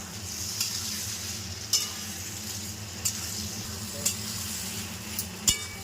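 Spices and ghee sizzling in a pan while a spoon stirs, with periodic scraping clinks against the metal, steady frying hiss underneath, close and moderately loud, for a Bengali vegetarian banana-flower ghonto.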